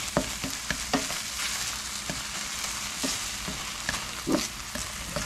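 Scrambled eggs with sour cream and butter being stirred in a pan with the heat switched off, giving a steady soft sizzle broken by repeated light scrapes and taps of the utensil against the pan.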